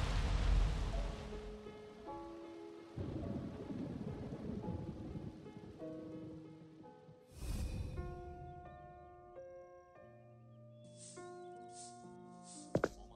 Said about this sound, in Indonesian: Ada badai hebat tadi malam